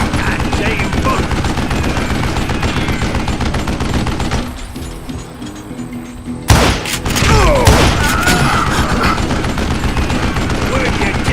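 Gunfire in the Western shooter video game Call of Juarez: Gunslinger, loud continuous barrage of rapid shots that drops away briefly, then a heavy thud and renewed firing with louder impacts.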